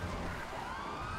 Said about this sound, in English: Can you turn those sirens off?